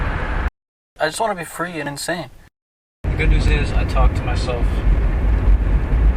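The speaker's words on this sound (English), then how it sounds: "Sorry about the engine noise." A car's engine hums low and steady during a drive, with a broad road rumble running beneath someone talking close to the microphone.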